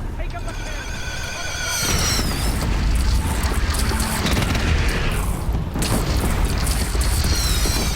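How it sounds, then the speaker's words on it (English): A cannon mechanism firing bolts in the video game Horizon Zero Dawn, a loud sustained mechanical roar with booming, clattering bursts and a ratcheting texture throughout. "So how the cannons actually work is it sucks in bolts from, well, the cliff over there."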